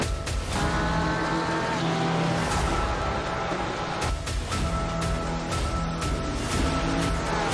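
Race cars at Indianapolis in a racing video game roar steadily and loudly throughout, with sustained engine tones and periodic bursts of higher revving, with no voices.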